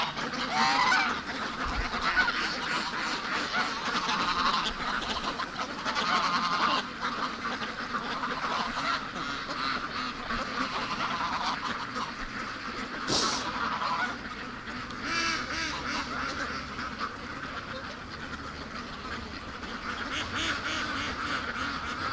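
Geese honk repeatedly at close range, loud bursts of honking and calling layered with other fowl chatter, with one sharp louder call standing out midway through.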